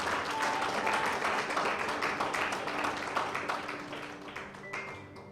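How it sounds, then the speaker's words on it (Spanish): A church congregation claps in loud applause, a dense, steady patter that goes on for several seconds and fades a little toward the end. "Dale un aplauso fuerte al Señor."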